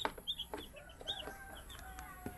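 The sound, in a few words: baby chicks peeping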